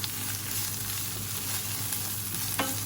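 Garlic and egg fry in hot oil with a steady, dense sizzle that runs the whole time, close and loud, alongside a bamboo shoot and fish ball stir-fry being made. A brief clatter comes near the end, and no one speaks.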